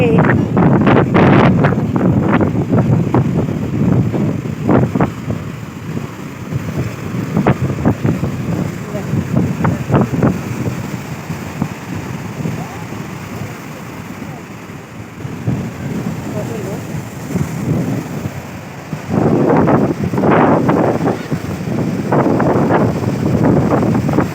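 Strong wind at the seashore buffets the microphone in a steady, rumbling roar, with crashing surf and occasional voices mixed into the noise.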